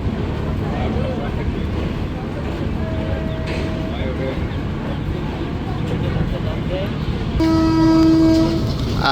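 Padmaraag local train pulling out toward Santahar behind a 1400-horsepower 2300-series diesel engine, a steady loud rumble of wheels and engine throughout, with a sustained horn tone sounding near the end.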